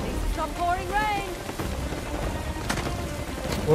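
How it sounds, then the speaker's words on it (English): Steady rain patters over game sounds in Uncharted: The Lost Legacy with rising tonal beeps, while a voice speaks briefly over the downpour. "Please stop pouring rain."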